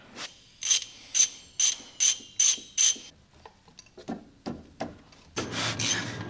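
A ratchet undoing drive shaft bolts on an MK4 car gives six quick evenly spaced clicking bursts, close and loud, followed by scattered metallic taps and a longer rough rasp.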